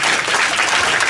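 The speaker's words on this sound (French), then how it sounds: "Nous battons un gros bravo pour applaudir mesdames qui sont allés." A church congregation at a Haitian Sunday worship service applauds, a loud, dense and continuous wash of clapping that fills the whole short moment.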